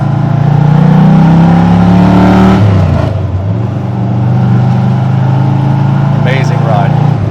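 A 1970 Ford Mustang Fastback V8 muscle car pulls away in first gear, its engine revving hard with a deep throaty rumble, dipping at a gear change and then building again, heard up close from inside the car.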